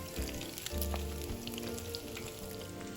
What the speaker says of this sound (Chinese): 再把第1次炸好的丸子再下锅复炸约30秒左右